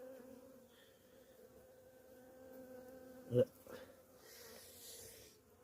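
Honeybees hum softly around an opened hive during an inspection of a colony whose queen had died, a faint steady drone with a brief knock partway through and someone talking throughout.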